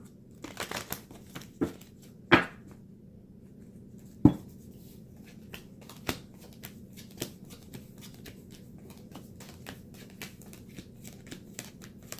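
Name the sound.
shuffling cards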